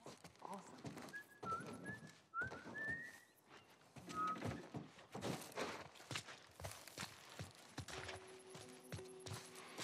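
A character whistles a short melodic phrase of rising notes in The Last of Us Part 1 over footsteps and scattered game sounds, fairly faint and without speech.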